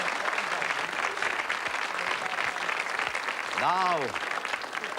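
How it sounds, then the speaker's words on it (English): Pub quiz night crowd giving a round of applause, steady clapping from many hands throughout, with a presenter's voice briefly speaking over it near the end. "a round of applause, please, for Big Dave"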